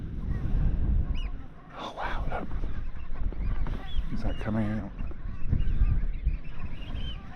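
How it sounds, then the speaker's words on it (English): A flock of geese flies low over an anchorage near the shore of Pilsey Island, honking repeatedly in overlapping calls under close, excited talk and steady wind. "Wow, loads of birds coming, flying over."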